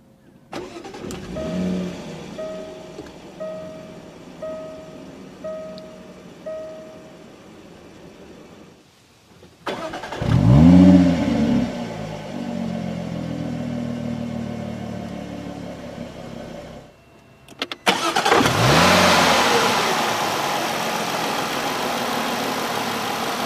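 A Jaguar XF starts with a push-button, cranks and catches, then settles into an idle. A burst of revving follows and the engine keeps running at a steady hum, with no talking.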